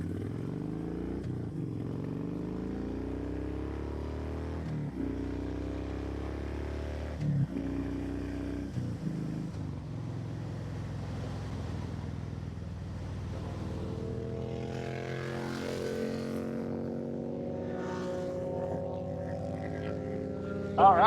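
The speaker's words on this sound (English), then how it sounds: "Sport bikes want to cruise, we're letting them go." Sport motorcycles pass on the road, engines droning and shifting pitch as they go by, with a steady rumble throughout and rising whine toward the end.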